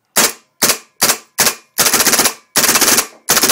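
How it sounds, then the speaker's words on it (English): A Karnivor paintball marker firing reball rounds in quick bursts, each volley a tight rattle of rapid shots separated by brief pauses, loud and close with no talking. "I'm just holding it out, shooting it."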